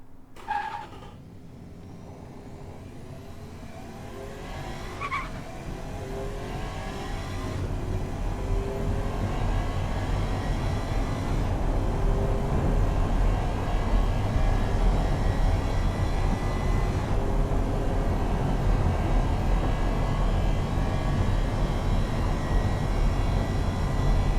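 A 2016 Athena SL9 sports car in Automation runs flat out down a 5 kilometer straight: the engine starts low and climbs through quick gear changes into a loud, sustained high-speed roar.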